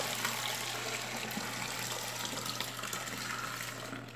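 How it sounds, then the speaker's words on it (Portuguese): Water pouring steadily into a bucket while making soap that failed to harden, a continuous close splashing rush with no talk. "Tô colocando água"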